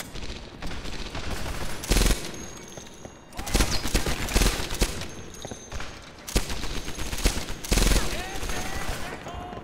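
Bursts of gunfire from Medal of Honor Airborne, with loud volleys and machine-gun fire coming in repeated waves between brief lulls, while a voice speaks in places.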